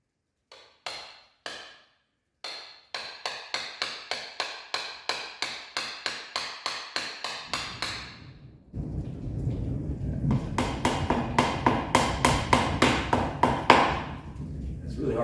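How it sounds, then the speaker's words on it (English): Heavy hammer blows ring out against the transaxle pins of a 1970 Porsche 911T mounted unlevel on an engine stand, a steady run of sharp metallic strikes, close and loud, with a rumbling low background joining partway through. "Really hard to hammer straight on an engine stand with the engine not level"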